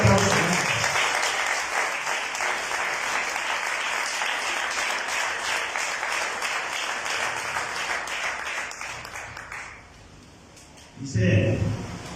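Congregation in a church clapping together in a sustained burst of applause, with voices mixed in; it fades out near the end before a brief louder sound returns.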